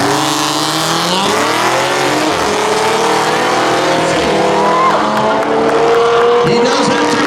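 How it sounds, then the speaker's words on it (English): A 2010 Mustang and a 1990 Audi drag racing at a street-legal spectator drag event roar hard with rising engine pitch through gear changes, loud and continuous, with an announcer talking over the engines. "Mustang versus Audi."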